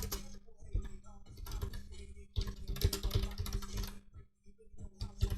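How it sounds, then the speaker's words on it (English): Rapid clattering keystrokes on a computer keyboard, typed in uneven bursts with a brief pause near the end, close and clear, with a low steady hum running underneath. "So I'm just typing, then I'll click that"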